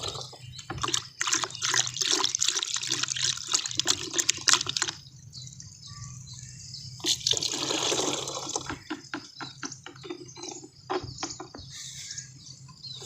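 Water from a tap runs and splashes into a sprayer tank being filled for spraying rice with humic acid and flake fertilizer, a steady gushing with bursts and pauses, close by and moderately loud.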